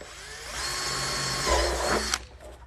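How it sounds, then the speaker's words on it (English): A power drill whirs steadily for about two seconds at close range, its pitch shifting as it bites through a plastic container, then cuts off abruptly. "I'm gonna drill a hole about right here."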